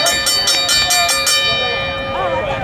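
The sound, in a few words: boxing ring bell rung to start a wrestling match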